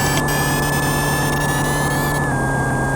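A simulated CNC machine runs in Swansoft CNC simulation software, producing a loud, steady synthetic machine hum with a constant tonal whine and dense broadband noise, unbroken from start to finish.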